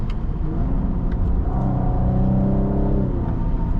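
Engine and turbo sound from a 2023 Cadillac CT5-V under way in V mode: a steady loud rumble from inside the cabin, with a rising whine layered over it for the second half.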